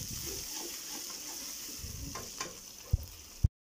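Garlic ginger paste frying with onions in a pan, a soft steady sizzle with occasional stirring scrapes and two sharp knocks near the end before sudden silence.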